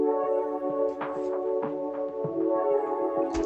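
Sustained synth pad chords carry a melody with soft plucked note onsets in an emotional Afro beats production, played dry with no chorus effect, steady and upfront with no talking.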